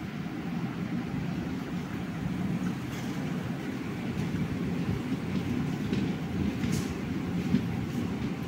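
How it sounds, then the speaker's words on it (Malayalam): Steady rumble and rattle of a passenger train rolling into Thakazhi station in Kerala, heard from inside the carriage, continuous and moderately loud with a faint rhythmic clatter and no talking. "നമ്മുടെ ട്രെയിൻ തകഴി സ്റ്റേഷനിലോട്ടാണ് വന്നിരിക്കുന്നത്."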